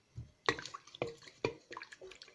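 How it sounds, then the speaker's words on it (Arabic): Two egg whites dropping into a bowl of dough mixture, heard as a few soft wet splats and plops spaced about half a second apart, close and fairly quiet. "نزيدو زوج بياض بيضة، اسمها زوج بياض بيضات"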